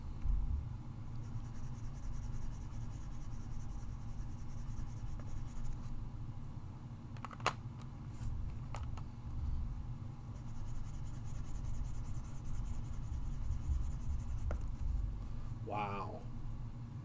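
Tim Holtz pencil drawn across smooth paper, a faint steady scratchy graphite rub running throughout, with a few brief clicks and taps scattered over the strokes.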